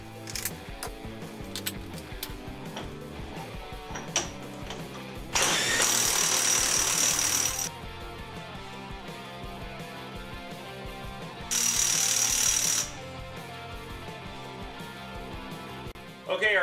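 Cordless impact wrench driving into a Skidmore-Wilhelm tester with a 2-inch impact socket, two loud, harsh hammering bursts of about two seconds and one second over a rattling mechanical background.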